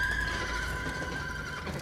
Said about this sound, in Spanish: ¿Qué les pasa a los caballos?